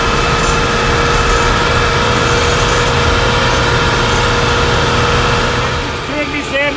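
Tractor engines run on a farm during a pumpkin harvest, two tractors heading out with three trailers, giving a steady, loud, close mechanical drone throughout with no talk over it.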